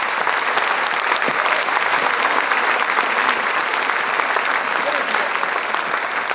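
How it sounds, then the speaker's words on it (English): Loud, sustained crowd applause for long-serving real estate agents and staff at a company event, a thick continuous clapping with voices mixed faintly underneath. "Let's give them a big round of applause."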